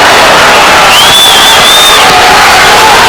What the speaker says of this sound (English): The crowd in Hilton Coliseum is up. They're on their feet, and what they're doing is giving as much encouragement as possible